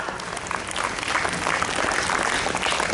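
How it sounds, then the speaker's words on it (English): Dense, steady applause from a school quiz audience fills the whole stretch, loud and sustained with a faint crowd murmur underneath. "Let's give a huge round of applause."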